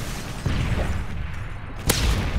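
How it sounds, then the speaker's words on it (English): Stun grenade thrown in the Modern Warfare 3 video game: a soft swish, then a thud, followed by a sharp crack-like bang near the end amid low game rumble. "Tossing a stun grenade!"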